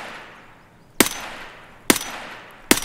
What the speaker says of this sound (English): Shooting now.